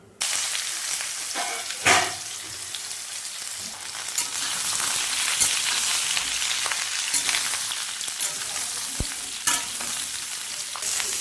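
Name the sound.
drumsticks and potatoes frying in oil with cumin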